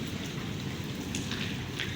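Heavy rain pouring down during a thunderstorm, a dense, steady hiss of downpour close by with scattered louder drops striking a surface.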